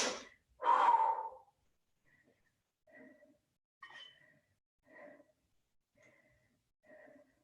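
After a total-body fitness workout, one loud, sharp exhale or gasp is followed by a series of quieter, evenly spaced breaths while the person recovers in a silent room.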